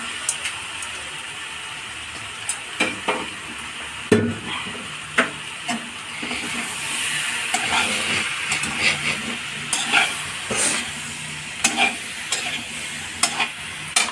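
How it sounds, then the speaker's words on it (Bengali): Soybean chunks and potatoes sizzle steadily in a frying pan, with repeated scraping and pressing strokes from a spatula breaking through the hiss; no one talks. "সয়াবিনগুলো দিয়ে দেবো চেপে চেপে।"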